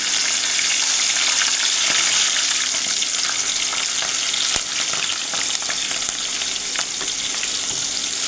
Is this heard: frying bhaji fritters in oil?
yes